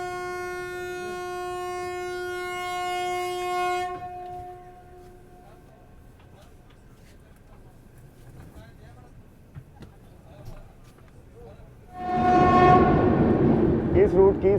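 A special passenger train running from Srinagar to Delhi, probably near Banihal, sounds a long steady horn for about four seconds. Rumbling carriage noise follows, then a loud burst of rail and track clatter near the end.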